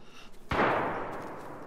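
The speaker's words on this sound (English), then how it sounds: "There's gunshots happening at airfield, I think." A single loud gunshot rings out in the DayZ video game, a sharp crack with a long decaying boom, heard alone after a quieter lead-in.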